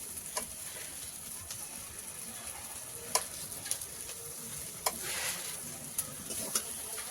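Chili, coriander and cashew spice paste fries in a pan with a steady soft sizzle, broken by a few sharp clicks of stirring, alone without voices.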